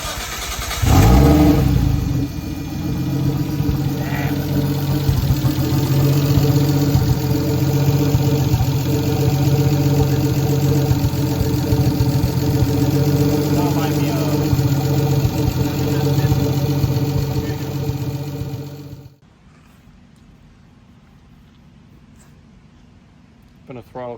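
A Nissan RB25 engine swapped into a Datsun 240z fires up and runs at a steady idle with a low, throbbing mechanical rumble and a few light revs, close and loud for about twenty seconds before cutting off.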